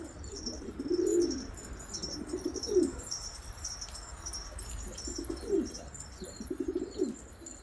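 Pigeons coo inside a breeding loft in several low, rolling phrases that come in bursts close by, with faint chirps and small bird sounds in the background.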